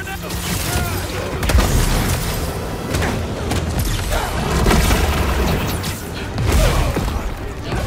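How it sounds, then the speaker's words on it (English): Grenade explosion during Spider-Man 2 gameplay, heavy booming blasts and crashing impacts repeating in several bursts over a dense, chaotic action soundscape, with voices talking over the noise. "Tossing grenade."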